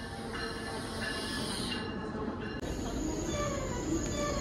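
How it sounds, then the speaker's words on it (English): A train pulls into a station with a broad steady rumble and faint high squeals from the wheels, heard close and continuously under some quiet chatter. "The train is here."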